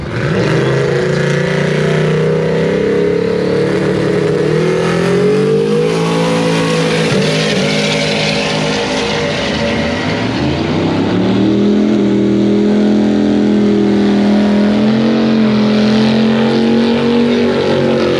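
A drag race car makes a high-speed pass at Rocky Mountain Race Week, its engine roaring loud and unbroken for the whole stretch, with the pitch rising and dropping through shifts as it accelerates.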